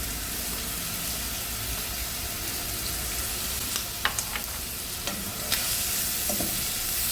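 Onion stir-fried with fish sauce and pepper for lomi sizzles steadily in a hot pan, with occasional scraping stirs and clinks over the continuous frying hiss.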